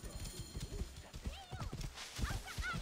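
A horse gallops in Assassin's Creed Origins, with a quick run of hoofbeats thudding under game dialogue. A horse whinnies or snorts briefly, and the whole scene stays fairly quiet.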